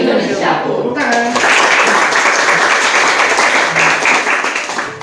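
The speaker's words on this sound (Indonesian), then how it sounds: "Tepuk tangan." A school classroom claps together during a geography lesson, a steady, loud wash of hand claps after a brief spoken call, with faint voices mixed in.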